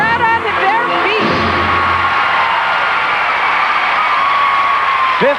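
A standing arena crowd at a 1995 figure skating championship cheers and whistles in a steady roar after a backflip routine, with a commentator's voice briefly over the din.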